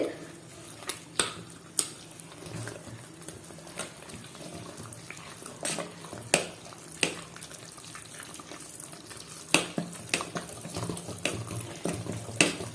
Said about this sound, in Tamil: தண்ணி கொஞ்சம் கொஞ்சமாக ஊற்றி கரைங்க, ஏன்னா ரொம்ப தண்ணி ஆயிடக்கூடாது.